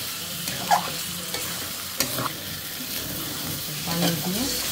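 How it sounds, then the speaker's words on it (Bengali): Chicken and potato pieces are stirred with spices in a hot pan, giving a soft continuous sizzle broken by a few sharp scrapes and clinks of the spoon. "আলু দিয়ে দুইটা একসাথে আবার মশলার সাথে ভালো করে কষিয়ে নেব।"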